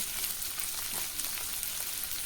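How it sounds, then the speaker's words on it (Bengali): Small crabs fry slowly in a pan, turning reddish, with a steady, even sizzle and faint crackle throughout and no talk. "কাঁকড়াগুলো এইভাবে আস্তে আস্তে করে ভেজে নেব"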